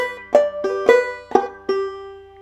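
Clawhammer banjo picks a quick run of about six bright, twangy plucked notes and brushes from the last measure of Snowdrop, close up and unaccompanied, the final note left ringing.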